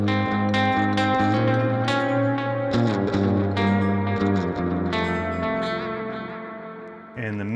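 Overdriven electric guitar on the bridge pickup, through an Opaque Drive pedal, plays a bright, biting riff with picked notes and ringing chords, distorted and reverberant, trailing off at the end.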